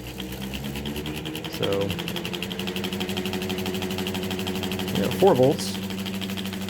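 A small Flynn motor and generator pair spinning at reduced speed, giving a steady close electric whine with a faint rattling buzz, while someone talks over it.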